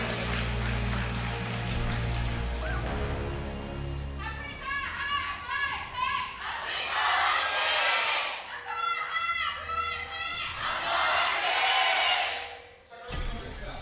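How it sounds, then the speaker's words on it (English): A live esports crowd at an LCK Summer 2017 League of Legends match between Afreeca Freecs and Samsung Galaxy roars for Samsung in shrill, surging waves of cheering and screaming, with voices mixed in. "Huge cheers from the crowd for Samsung."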